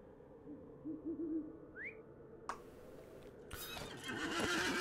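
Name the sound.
horse neighing in The Lord of the Rings Online video game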